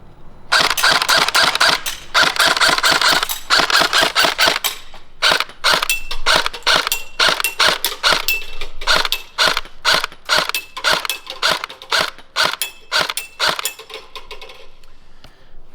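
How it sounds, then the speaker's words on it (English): A Tokyo Marui FAMAS SV airsoft electric gun fires in sharp mechanical bursts, first a long rapid full-auto stream, then shorter bursts and single shots with gearbox clatter, close and loud. "Let's flip this secondary safety out of the way and get to firing."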